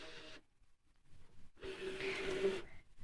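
Brother ScanNCut cutting machine loading an Artistix Super Duo cutting mat: a short motorized whir, a quiet gap, then a longer mechanical feeding hum with a faint tone as the mat is drawn in, close by and alone.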